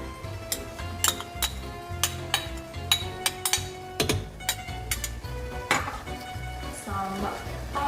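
Mushrooms go into a pan of melted butter while cooking risotto, with repeated clinks of a utensil against the pan and a soft sizzle underneath, the sharp taps irregular and close.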